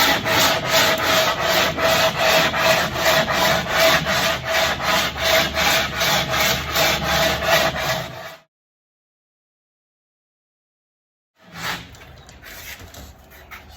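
Steady rhythmic rasping of a sanding board stroking back and forth over the transom of a 1973 Aquasport 222 boat, loud and close, stopping abruptly, then resuming more faintly after a pause.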